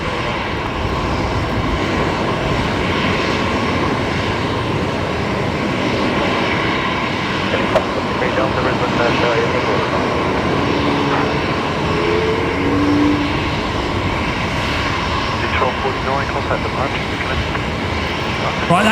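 A Jetstar jet lining up on runway 19 left at Brisbane Airport, heard as a loud, steady engine roar that holds for the whole stretch, with people talking over it.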